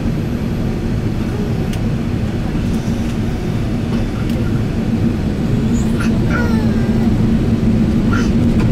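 A Singapore Airlines Airbus A380 takes off from Changi Airport, heard from inside the cabin as a steady, loud roar of engines and rushing air that holds throughout, with faint high tones and a few soft clicks above it.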